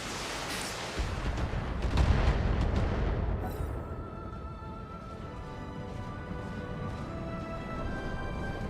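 A video game turret firing, heavy booming shots and explosions rumbling loudly for the first few seconds, then fading into a sustained tonal hum with faint distant pops.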